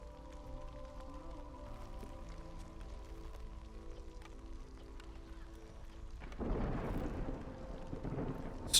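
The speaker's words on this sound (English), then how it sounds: "Storm is coming." A thunderstorm in the dark fantasy city builder game Against the Storm rumbles low beneath a sustained tonal drone. Rain and thunder swell abruptly into a louder wash partway through.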